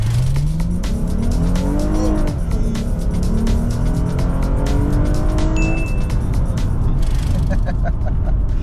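A Toyota Mark X GS launches hard from a standstill, its engine climbing loud and close through repeated upshifts with rising, falling pitch, tire noise underneath, traction control intervening early.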